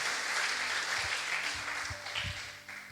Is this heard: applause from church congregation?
yes